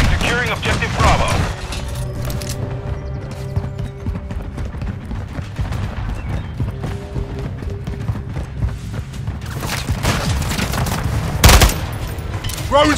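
Dense gunfire in the Call of Duty Modern Warfare III multiplayer match on the Sub Base map, with rapid automatic bursts and scattered shots, loud and close under shouted voices and game radio calls.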